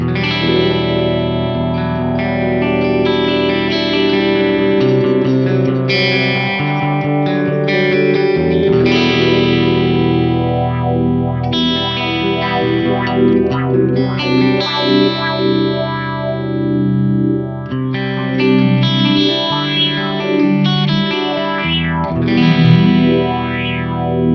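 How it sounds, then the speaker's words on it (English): Distorted electric guitar through the sweep echo effect of a Line 6 DL4 delay pedal, repeats swirling and rising in pitch, loud and continuous, no talking. "The sweep echo, you probably know what this is already going to sound like, but let's have a listen."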